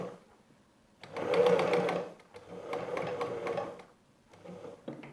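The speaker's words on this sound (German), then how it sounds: "setze mein Füßchen auf und nähe einfach weiter" Sewing machine stitching patchwork fabric for an origami flower block. After a quiet start come two long, steady whirring runs of stitching, then a short burst near the end.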